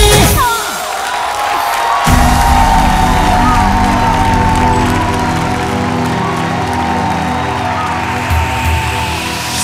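A large crowd at a Bhojpuri stage dance show claps and cheers loudly to welcome a performer, continuous applause with whoops and shouts, sustained for the whole stretch.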